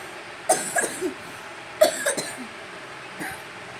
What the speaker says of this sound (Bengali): কি হারে কাশি হয়েছে কি বলবো